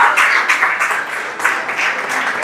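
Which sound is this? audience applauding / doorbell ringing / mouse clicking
audience applauding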